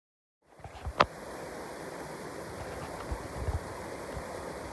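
Waterfall along a forest trail in Connecticut, a steady soft rushing wash that rises after a brief silence at the start, with a sharp knock near the beginning and faint scattered bumps over it.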